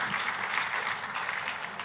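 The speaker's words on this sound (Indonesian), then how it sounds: "Tepuk tangannya boleh yang paling meriah buat Tuhan kita." A church congregation claps loudly and continuously during a worship service, a thick wash of hands with no pauses.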